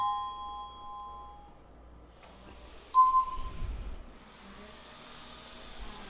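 A battery-free wireless doorbell chime, rung from the gate and heard from a third floor, gives clear electronic ding tones at the start and again midway, with a thump and faint handling noise between.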